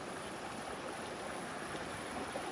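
A mountain river on Mt Wellington runs over a bouldery riverbed into a small clear pool, producing a steady, broad rushing wash at moderate distance with no talking.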